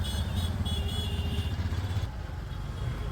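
CNG auto-rickshaws and other traffic crowd a busy Ahmedabad road, with engines idling and clattering in a steady rumble and a brief horn-like tone early on.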